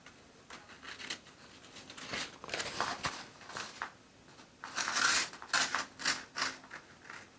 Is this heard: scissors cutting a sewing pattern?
yes